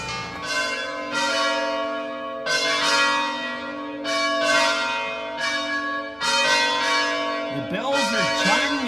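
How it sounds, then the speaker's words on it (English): Church bells ring at the monastery in Monterosso al Mare on the Italian Riviera, with loud, rich strikes repeating every second or two and long ringing tails. Faint background sounds blend in near the end. "The bells are chiming at the Monterosso al Mare Monastery."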